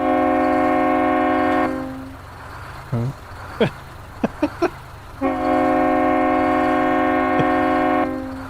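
A deep, sustained truck horn in American Truck Simulator blares for a couple of seconds, breaks off for a brief spoken reaction and a few clicks, then sounds again loud and long.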